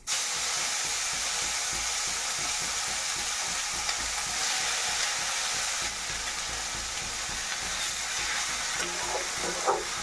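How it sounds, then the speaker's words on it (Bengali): Onion paste fries in a pan with a loud, continuous dense sizzle and hiss, steady throughout with a few faint stirring taps. "এটাকে 1-2 মিনিট এটাকে সুন্দর করে ভেজে নিতে হবে, হালকা একটু লাল লাল হলে।"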